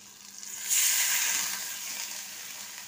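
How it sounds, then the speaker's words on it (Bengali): Water poured into hot fried masala of tomato, chilli and turmeric for a katla fish curry sets off a sudden loud surge of sizzling hiss that lingers and slowly eases. "এবার এতে আমি জল ঢেলে দেবো"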